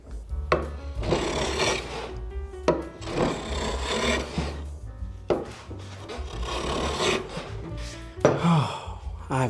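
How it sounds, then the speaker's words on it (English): Hand plane shaving wood on an end-grain cutting board, near and fairly loud, in repeated long rasping strokes with brief pauses between them. "planing."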